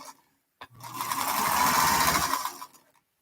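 Sewing machine stitching a quilt, running in one steady continuous burr of about two seconds after a brief click, close and clear with no talk.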